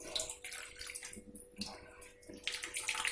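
Water splashes and trickles as it is drained from soaked lentil batter for Chhattisgarh-style rakhiya badi, a steady running, gurgling flow with brief irregular surges, close and moderately loud, no voices.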